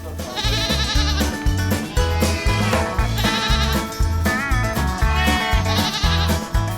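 Sheep and goats, with lambs and kids, bleat repeatedly on a village farm, with wavering, overlapping cries over a dense, busy background.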